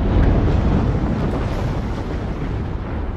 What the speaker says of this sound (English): It can suddenly become more explosive, sending blocks of lava 5 feet across, flying through the air.